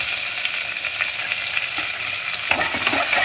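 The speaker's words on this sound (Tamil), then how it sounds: "நம்ம வந்து வெங்காயத்தை போட்டுடணும்" Onions are added to a hot pan for tomato kochi, giving a loud, continuous close-up sizzle with light stirring scrapes and a sharper crackle near the end.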